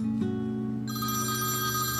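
A telephone rings indoors with a steady, bright electronic ring that shifts pitch partway through and continues loud and clear with no voices over it.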